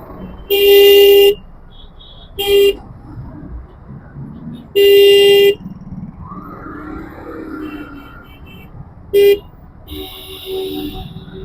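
Car and vehicle horns honk in several loud, separate blasts over a steady rumble of road traffic near an elevated expressway, with some talk in between.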